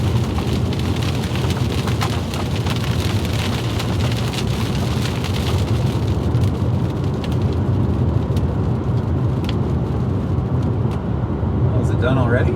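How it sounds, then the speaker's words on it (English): Heavy rain drums on an Acura 2.3CL while it is driven on a long highway trip, a dense, continuous patter over road and engine noise from inside the car, with a voice heard at times. "Oh, here comes the rain."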